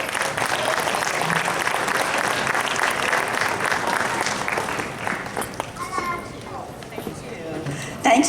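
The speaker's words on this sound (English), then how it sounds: "Please, a round of applause for her." An audience applauds a city councillor as she is called up to speak at a New Year celebration opening ceremony, steady dense clapping filling the room before tapering slightly, with a few children's voices and crowd murmur mixed in.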